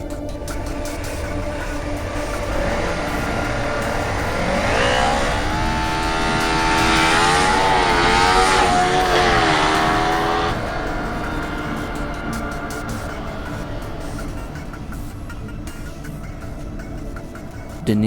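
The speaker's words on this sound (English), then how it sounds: "let's watch the simple 0 to 100 km/h test for the Baby Ninja." Kawasaki Ninja 250R motorcycle accelerating from 0 to 100 km/h, its engine note climbing in pitch through several gear changes, growing louder mid-run and then easing off.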